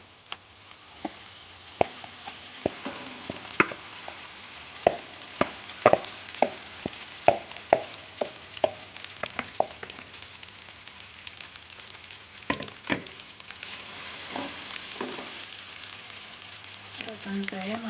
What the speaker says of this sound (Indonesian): Kemudian sekarang akan saya masukkan nasi.